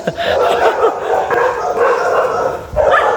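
Several dogs bark and yip loudly and close by at a jogger on a road in Mariveles, Bataan, a rapid overlapping run of barks with one whimpering, continuing throughout.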